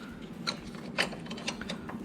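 A ratchet with a 10mm socket works a bolt on a Chevy water pump, 88-98, making faint quick clicking in a few short bursts against a low background hum.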